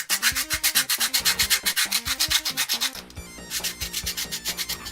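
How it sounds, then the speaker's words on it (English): Joints of 3D-printed parts sanded by hand, a loud rhythmic back-and-forth rasp of quick even strokes that pauses briefly and then resumes, close up with no talking. "Right now I'm only sanding the joints"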